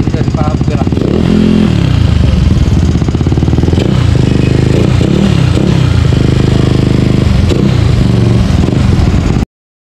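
A Yamaha Mio Sporty motorcycle with a stainless exhaust pipe revs loudly and continuously at close range, its raspy exhaust rising and falling with throttle, with some clatter mixed in.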